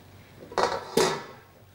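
A pan lid on chicken cooking for black pepper chicken lifts off with two quick metallic clatters about half a second apart, close and fairly loud, then quiet.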